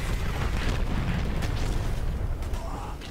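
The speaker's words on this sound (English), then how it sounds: "Yep, airstrike coming." Airstrike explosions in the shooter game Dirty Bomb form a dense, continuous rumbling barrage of booms, loud and close, with a few sharper bursts near the end.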